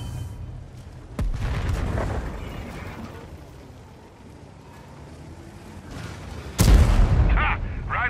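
A tank cannon in World of Tanks fires a deep, booming shot after an earlier sharp crack, followed by a rolling low rumble of engine noise.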